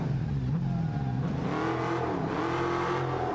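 A Moonhawk car engine in a driving video game revs steadily and loudly, its tone rising and falling with throttle for a few seconds, with no talk over it.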